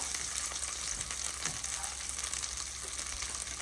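Tomato pieces sizzle steadily in a pan while being cooked for chutney, a dense, even crackle of frying with faint stirring, close and alone with no voices.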